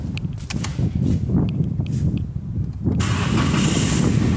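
A car engine turns over and catches to a steady idle during a tune-up check on a vehicle whose check-engine light stays on, the starter cranking briefly before a loud, broadband running roar takes over close by.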